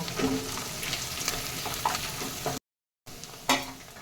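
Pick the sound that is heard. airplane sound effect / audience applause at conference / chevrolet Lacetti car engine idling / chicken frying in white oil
chicken frying in white oil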